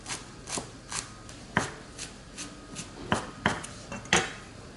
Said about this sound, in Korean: 그럼 이제 이거를 채를 좀 썰 거예요. 얇게.